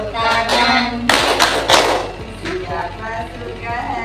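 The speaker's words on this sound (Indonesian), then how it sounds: "Siapa suka hati tepuk tangan?" Rhythmic hand clapping keeps time with a children's action song sung in Indonesian, with a burst of clustered claps in the middle over steady singing voices.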